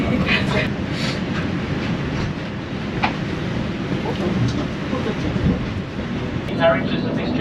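A Sydney train runs toward Katoomba via Parramatta, Blacktown, Penrith and Springwood, with a steady rumble and rattle of carriages heard from inside, a few knocks and clicks, and an announcement voice over the noise.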